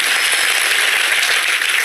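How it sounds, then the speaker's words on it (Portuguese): A live audience in a Brazilian talk-show setting claps loudly and continuously, a dense, even wash of applause with no voices over it. "Salve de palmas pra ele."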